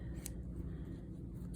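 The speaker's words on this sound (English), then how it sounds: "we have fabric scissors." Fabric scissors from a school sewing kit make a faint, quick snip or two over a steady low hum, close and brief, with no talking.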